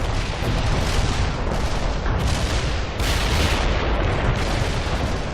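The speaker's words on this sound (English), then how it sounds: "Commencing the barrage." Artillery barrage in the World in Conflict video game: a loud, dense, continuous roar of rolling blasts and crackling impacts, with a sharp surge of bursts about three seconds in, no talking.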